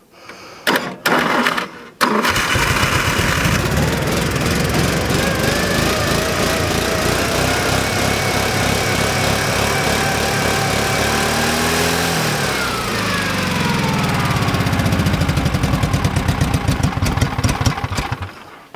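A ZAZ Zaporozhets humpback car's cold engine idles unevenly, loud and close, with a rattling rhythmic chug after a few sharp starting bursts and a brief dip in revs midway.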